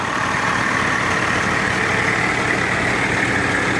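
A fire department engine idles with a steady, loud diesel rumble close by, the low continuous drone unbroken throughout with no voices.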